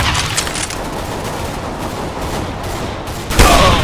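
Rapid gunfire from Counter-Strike: Global Offensive in a sniper fight, steady bursts of shots through the clip with a louder, sharper shot near the end.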